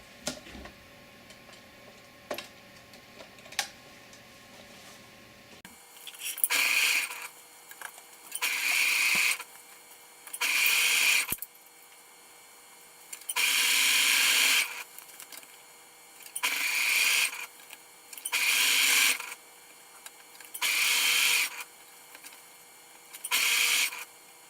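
A sewing machine or serger clean-finishes a fabric edge on sleep shorts. After a quiet start, loud mechanical bursts of stitching run in repeated runs of two to three seconds, separated by brief pauses.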